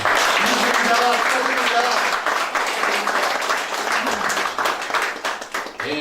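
Crowd applause at a candidate's campaign office opening, a dense steady clapping lasting several seconds with some voices mixed in, tapering slightly toward the end.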